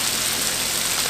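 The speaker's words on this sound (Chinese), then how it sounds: "我们就把水倒进去" Water poured into a pan of simmering tomato sauce, a steady close rushing splash lasting about a second with no voices.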